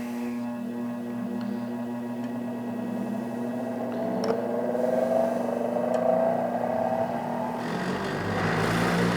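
A pen-turning lathe runs steadily, giving a continuous close hum and whir at an even level, with faint workshop noise over it and a slight rise toward the end.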